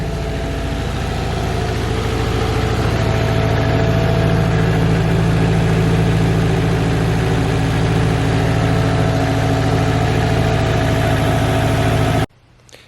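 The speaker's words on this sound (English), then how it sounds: "Just like that, she starts up and idles." A Subaru STi engine idles steadily with a low, even rumble and a mid-range drone. It runs loud and close for about twelve seconds, then cuts off abruptly.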